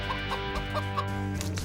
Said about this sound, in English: Nobody told me chickens could fly.